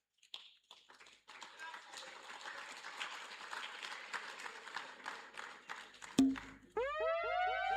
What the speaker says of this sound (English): We want to clap for the organizers.